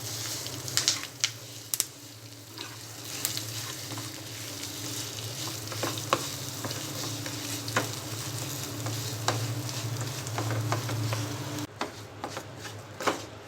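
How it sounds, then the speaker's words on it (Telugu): Ground gongura and coconut chutney being stirred into a hot tempering of dried red chillies, garlic and curry leaves, with a steady close sizzle of frying oil and scraping stir strokes throughout, no voices. "తాలింపు ఫ్రై అయిన తర్వాత ముందుగా నూరుకున్న పచ్చడి వేసి కలుపుకోవాలి"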